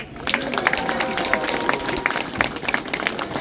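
Scattered clapping from a crowd at an outdoor political campaign rally at Moran crossroads, brief and fairly light, with crowd noise around it.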